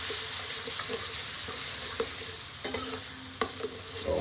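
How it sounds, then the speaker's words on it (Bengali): Cumin and turmeric with a splash of water are sautéed in a pan, producing a steady close sizzle and hiss, with a few metallic clinks of a spoon stirring toward the end. "সমস্ত কিছু একটু ভালো করে আমি এবার কষাবো"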